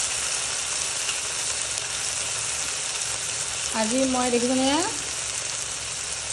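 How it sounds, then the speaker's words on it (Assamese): Ivy gourd and okra frying in a pan, a steady broadband sizzle running throughout, with a brief stirring or scraping sound near the middle and someone talking over the cooking. "কুন্দুলি ভেন্দি ভাজি পেলাইছোঁ"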